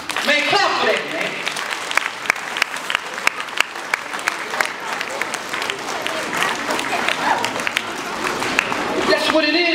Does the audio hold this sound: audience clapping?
yes